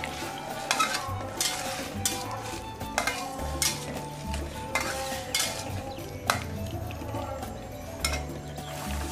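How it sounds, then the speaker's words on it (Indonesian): Stir-fried vegetables sizzle in a pan as water goes in, with repeated clinks and scrapes of a utensil stirring against the metal and a low bubbling underneath. "Aku tambahkan airnya ya, karena aku suka yang banyak kuah."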